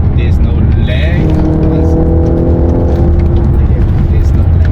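Audi RS4 with a naturally aspirated 4.2 V8 engine, loud and close from inside the car, a rising roar with layered harmonics as it revs and pulls hard up a mountain pass, steady throughout with a voice speaking over it.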